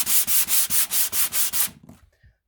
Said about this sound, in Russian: Теперь тоже шлифую и под лак.